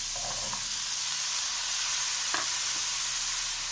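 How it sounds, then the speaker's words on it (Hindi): Potatoes go into a hot pan with tomatoes over a low flame for a mixed vegetable curry, giving a steady close sizzle and frying hiss with a couple of brief stirring clinks. "अब हमने ये आलू डालने हैं"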